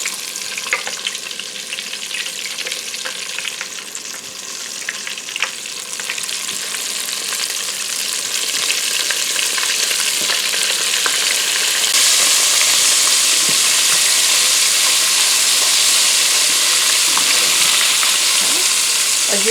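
Oysters deep frying in hot oil give off a steady, dense sizzle and crackle that grows louder and fuller midway through, continuing without any talk.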